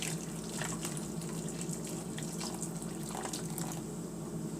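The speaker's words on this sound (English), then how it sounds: "I have my hot water, and I'm just going to add" Hot water pours steadily over dried chiles in a bowl, a continuous gushing, splashing flow at close range with no pauses and no voices.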